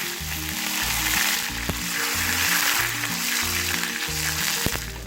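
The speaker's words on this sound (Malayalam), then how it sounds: "എണ്ണ ചൂടായി കഴിയുമ്പോൾ 1/2 ടീസ്പൂൺ കടുക് പൊട്ടിക്കഴിയുമ്പോൾ 2 വറ്റൽമുളക്," A Kerala tempering of mustard seeds and dry red chillies in hot coconut oil, for a sweet sadhya curry, sizzles loudly and continuously close up, with faint crackles and a couple of sharp utensil clicks.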